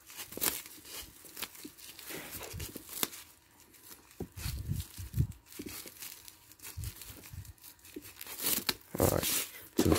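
Sticky tape is ripped off a roll while wrapping a homemade ball, giving a few short, loud tearing rips scattered between crinkly handling noises at close range.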